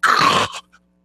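A person imitates the loud gasping snort of sleep apnea as breathing resumes, a single harsh throaty rasp followed by a brief trailing grunt, close and alone.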